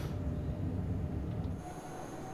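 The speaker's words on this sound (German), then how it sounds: "Da müsste jetzt noch ein Zug einfahren." An S-Bahn train in Train Sim World 4 on the Cologne network pulls into a station, a low steady rolling rumble with a faint high squeal that fades toward the end; no voices are heard.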